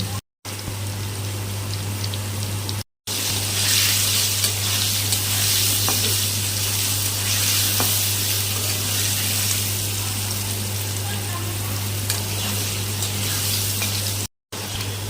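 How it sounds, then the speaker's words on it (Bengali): Diced potatoes fry in hot oil with bay leaf, cumin seeds, salt and turmeric, giving a continuous, even sizzle with a low electrical hum beneath and brief moments of near-silence. "আলু দিয়ে লবণ আর হলুদ দিয়ে আলুটাকে ভেজে নেব"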